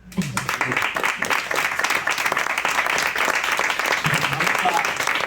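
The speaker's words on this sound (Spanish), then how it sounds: "Pues espérate, un aplauso," Sustained, dense audience applause fills the room at a book presentation on China's economy with an economist, loud and steady throughout with a faint voice or two underneath.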